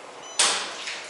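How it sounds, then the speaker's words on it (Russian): A luggage locker door at a train station springs open with a sudden clack, followed by a short rattle of the door swinging and a second faint knock. "28-й ящик открывается."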